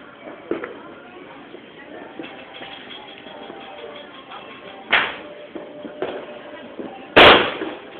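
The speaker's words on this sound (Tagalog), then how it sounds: "may isa pong fireworks sumabog" Two sharp, loud bangs of New Year fireworks, one near the middle and a louder one near the end, over a constant hissy background with faint speech.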